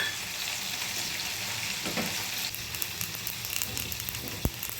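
Sesame seeds fry in a pan in a dense, steady crackling sizzle with occasional faint pops and one sharp knock of a utensil near the end, close and without speech.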